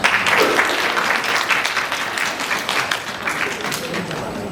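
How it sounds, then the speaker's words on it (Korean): A seminar audience in Pohang claps steadily in welcome as a presenter from a Daegu community support center comes forward, dense even applause filling the room for several seconds. "큰 박수로 맞이 부탁드리겠습니다"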